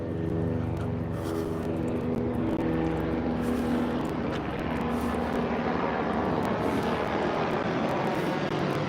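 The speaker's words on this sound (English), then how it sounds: "I got a police helicopter right there." A steady, loud engine and rotor drone of a police helicopter flying overhead above the Sunset Strip, continuous throughout with no breaks.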